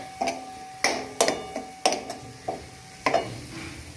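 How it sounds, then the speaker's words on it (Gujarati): Vegetable soup is stirred in a pot over a medium flame right after soy sauce goes in. Sharp, irregular spoon clinks and taps ring close against the pot over a soft background. "હવે નાખી દઈશું સોયા સોસ અને હવે આપણે આને સારી રીતના મિક્સ કરી લઈએ"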